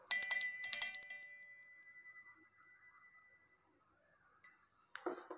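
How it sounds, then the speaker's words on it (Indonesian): A bell is struck in two quick bright bursts, and its metallic ring fades slowly into silence, followed a few seconds later by a couple of faint clinks. "saya akan memulai dengan tanda lonceng berbunyi"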